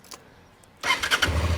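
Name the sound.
Honda Transalp motorcycle engine starting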